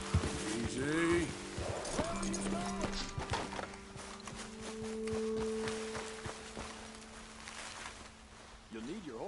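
In the video game Red Dead Redemption 2, hooves clip-clop at a walking pace beneath a steady hum and scattered speech, with a horse snorting now and then.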